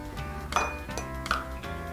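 A metal spoon clinks twice against a dish while scooping ginger pieces out of it, with light kitchen handling sounds between the two sharp taps.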